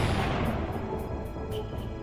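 Heavy gunfire in Metal Gear Solid brings down a crane, a dense loud roar of shots and booms with faint rhythmic pulses on top and no talk.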